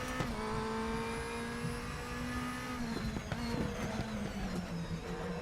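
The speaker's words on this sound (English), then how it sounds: "Standing on the throttle out of there." A DTM touring race car from DTM Experience 2015 at EuroSpeedway Lausitz holds full throttle, its engine note droning high and steady then dipping slightly as it shifts, loud and close with no talking.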